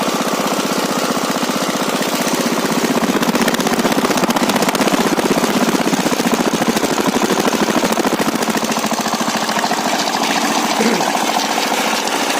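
A walk-behind tractor's gasoline-fuelled engine runs steadily at high revs, a loud, dense and continuous mechanical roar that holds close for the whole stretch.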